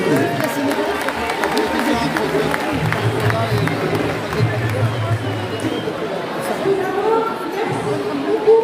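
Audience applause at the Lyon fan zone for the Africa Cup of Nations 2025: steady crowd clapping blended with chatter and cheering, with a voice heard over the noise throughout.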